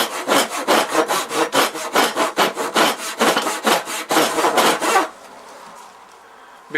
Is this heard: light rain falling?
no